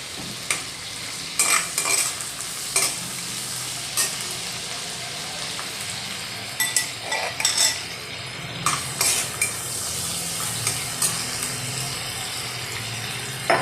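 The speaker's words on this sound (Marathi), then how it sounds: "मिरची छान परतून घ्यायची कच्चेपणा जाईपर्यंत" Green chillies sautéing in a pan, a continuous close sizzle with occasional scrapes and clinks of a spoon stirring against the metal, no one talking.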